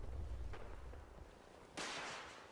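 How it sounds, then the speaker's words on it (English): Distant missile blasts and explosions go off in the Fallout 4 video game, with a faint thump early on and then a sharp, loud burst that rings out and slowly fades. "I'm hearing missiles. I see massive explosions."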